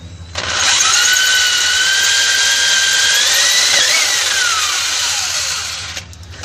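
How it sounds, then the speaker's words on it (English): A power drill bores a hole for a Jeep YJ U-bolt driveshaft strap upgrade, a loud steady whine starting abruptly and holding for about five seconds before winding down and cutting off. "Now I got to drill this side."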